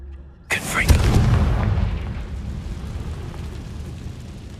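A Confringo explosion spell in Hogwarts Legacy sets off a sudden loud boom that rolls into a long rumbling decay. A voice speaks just before the blast.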